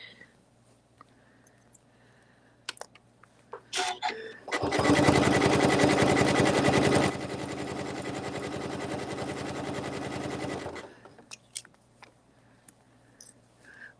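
A sewing machine stitches a fabric hotpad in a sustained run of rapid, loud mechanical whirring. The pace slows partway through, and quiet handling clicks come before and after.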